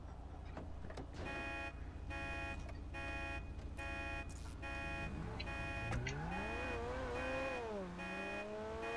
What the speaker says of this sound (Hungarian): Kapcsol már ki a riasztót.